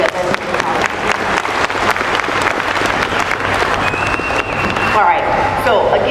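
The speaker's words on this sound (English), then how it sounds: "I want you to give him another round of applause" An audience at a legislative town hall meeting applauds a state representative, dense steady clapping filling the room for several seconds before tapering off near the end.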